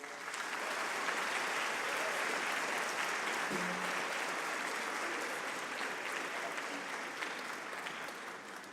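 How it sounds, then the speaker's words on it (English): Steady audience applause fills a school auditorium after a middle school band's Christmas concert, a dense, even wash of clapping lasting throughout and tapering slightly at the end. "could we give them a quick round of applause?"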